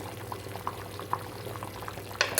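Rice with ivy gourd (tondli bhaat) bubbling in a pot, a steady close simmer of small popping bubbles with a brief louder burst of clatter near the end.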